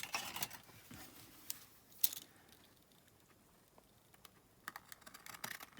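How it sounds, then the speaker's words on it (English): Scissors trimming the edge of a paper journal page, faint, close snips and light paper rustles with a few sharper clicks and no talk. "Then I think we'll cut the edge of this one."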